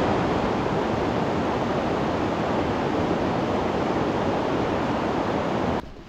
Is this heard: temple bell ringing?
no